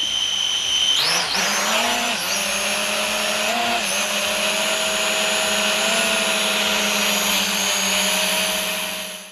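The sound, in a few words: RuKo U11 GPS drone taking off and hovering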